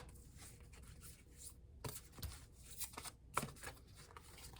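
Tarot cards shuffled by hand in a simple, unpracticed way give soft, close riffling and rubbing sounds with a few sharper slaps, quiet and uneven throughout.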